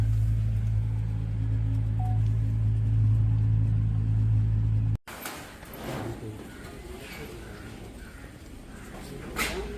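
A car engine idles with a low, steady rumble, then cuts off abruptly into quieter shuffling and rustling nearby.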